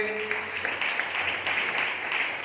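A congregation claps together in praise of God at a prayer meeting during a forty-day fast, a steady, moderately distant patter of applause with a voice briefly heard at the start.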